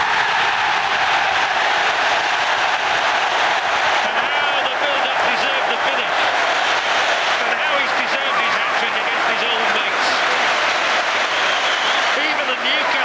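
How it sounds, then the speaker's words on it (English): Football crowd at a Premier League match between Manchester United and Newcastle United applauding a goal, a continuous roar of clapping and crowd noise filling the stadium, with a commentator talking over it throughout. "Fans are applauding that one."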